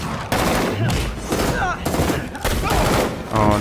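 Rapid gunfire bursts from the Spider-Man: Turf Wars video game, loud and dense, repeating in several volleys across a few seconds.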